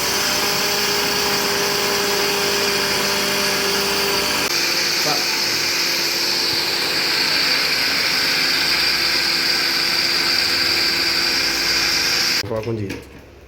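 Electric mixer grinder whirring steadily as it grinds roasted rice into powder in its jar, a loud continuous motor drone with a brief shift midway before stopping abruptly.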